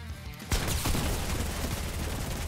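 Video game gunfire kicks in abruptly and rolls on as a dense, sustained volley of rapid shots at moderate loudness.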